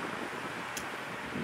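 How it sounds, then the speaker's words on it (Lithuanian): Steady broadband wind roar buffets a microphone during a bicycle ride against a strong headwind toward Katowice, continuous and close with no speech. "stiprus vėjas ir priešpriešinis vėjas"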